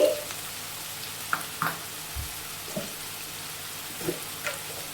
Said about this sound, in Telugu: ఉల్లిపాయ తొందరగా మగ్గుతుంది సాల్ట్ వేసుకోవడం వల్ల